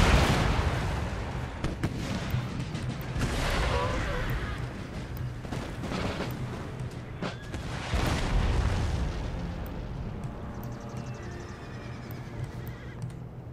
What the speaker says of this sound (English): Here comes another salvo in.